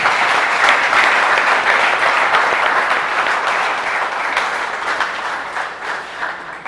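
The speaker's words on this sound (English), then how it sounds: "I think the director deserves a bigger round of applause." An audience applauds the director at an embedded systems and robotics event, a loud, sustained wash of clapping from many hands that tapers slightly toward the end.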